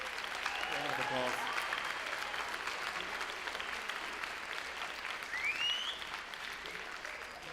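Applause from an audience at a junior high school band spring concert, a steady wash of clapping that swells at the start, then gradually thins and fades out.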